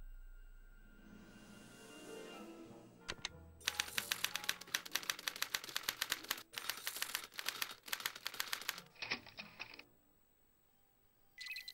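A typewriter in the Back to the Future game clacks in a quick, irregular run of sharp keystrokes, close and clear, with a bell-like ding and a carriage sound near the end, no talking.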